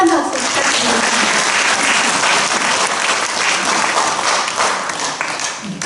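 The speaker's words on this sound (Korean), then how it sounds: "두 분께 다시 한번 따뜻한 박수 부탁드리겠습니다." Warm audience applause at a joint book launch held by a Daegu writers' association in a live cafe, a loud, close, continuous burst of many clapping hands that stays full throughout and eases slightly at the end.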